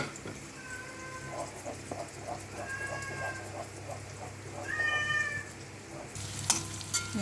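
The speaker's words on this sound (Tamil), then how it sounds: "நல்லா வதக்கிக்குங்க." Ingredients for a Tamil-style kireh curry are sautéed in a pan with a soft, steady sizzle and occasional stirring scrapes; a bird chirps in the background, and a sharp clatter rises near the end.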